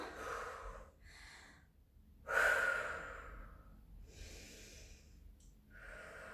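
Heavy, audible breathing during a cardio workout, with several long breaths in and out close to the microphone, one louder gasping exhale standing out and no talking.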